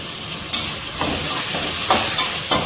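Tomatoes, coriander, curry leaves and chillies being stirred in a hot cooking pan, a steady sizzle broken by several sharp scraping strokes of the spoon, close and clear with no talking.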